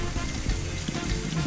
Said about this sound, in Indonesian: karena semalam hujan dan sekarang masih gerimis